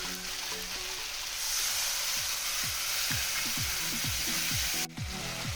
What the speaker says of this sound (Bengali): এবার আমি মশলার সঙ্গে এগুলোকে ভালো করে কষিয়ে নেবো